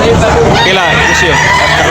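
Rooster crowing amid a busy chicken market in Tabunok, Talisay, Cebu, a loud drawn-out call over dense clucking and crowd chatter, with people talking nearby.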